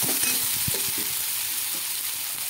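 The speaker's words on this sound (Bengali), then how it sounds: "আদা বাটা দিয়ে দিলাম, লঙ্কা বাটা দিয়ে দিলাম, ভালো করে মেরে ফেলে নেব" Mustard-poppy, ginger and chilli pastes frying in a pan for aloo dum, a continuous bright sizzle with a few soft stirring knocks early on, close and unaccompanied by talk.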